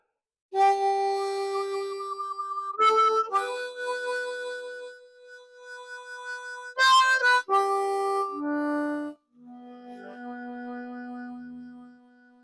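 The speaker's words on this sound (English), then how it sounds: "So that's vibrato." Harmonica held with a hand cupped behind it and swung open like a hinge, giving a wavering vibrato on sustained notes; several clear held tones and short phrases play alone, with no talking.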